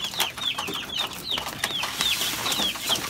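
Chickens clucking at feeding time during wheat feeding, a close, busy flock giving repeated short clucks and chirps in a steady rhythm over a constant rustle of activity.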